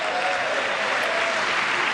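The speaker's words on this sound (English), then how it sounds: "Everyone's clapping for Mark" A crowd at a speech by Trump applauds Mark Fogel with dense, loud, sustained clapping that holds steady for the whole moment.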